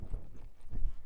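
A colt's hooves clip-clopping at a walk, with two or three heavy, close footfall clusters in a loose rhythm and no voices over them.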